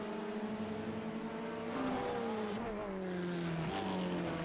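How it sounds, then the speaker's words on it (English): A race car in the iRacing game rolls down pit road at Le Mans, a smooth engine drone whose pitch rises and shifts as it passes, fairly faint and steady. "as I heard a car come down pit road"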